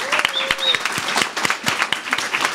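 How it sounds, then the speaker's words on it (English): Scattered audience clapping at a university college commencement, individual claps distinct and irregular rather than a dense roar, with a brief whistle-like tone early and faint voices mixed in. "I'll give her a round of applause."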